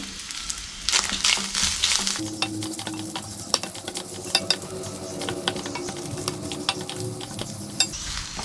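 Grated coconut with shallots, garlic and dried red chillies roasting in coconut oil in a pan, a steady close sizzle with frequent scraping and stirring strokes of a spoon against the pan throughout.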